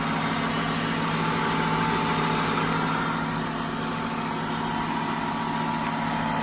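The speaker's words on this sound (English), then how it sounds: "There's that engine." A 2000 Lincoln Town Car Signature idles steadily under the open hood, a constant close engine hum with a faint whine and hiss, no talk.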